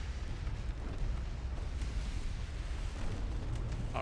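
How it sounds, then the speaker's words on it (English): A destroyer blows up in the naval video game Ultimate Admiral Dreadnoughts, heard as a continuous dense rumbling roar of explosion and debris, steady and loud throughout with no talking. "We're just looking at the destroyer, just explosion."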